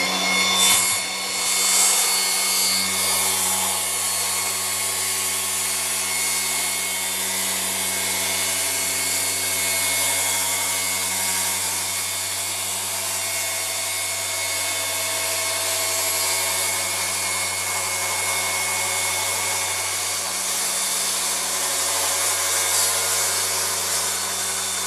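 Plunge saw cutting through wood in a workshop, a loud, steady motor whine and cutting noise running continuously from start to finish with no talk.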